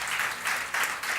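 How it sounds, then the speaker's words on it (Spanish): A congregation applauding during a Spanish-language church service: a dense, continuous wash of many hands clapping, fairly loud and close, with no talking. "Démosle un aplauso al Señor."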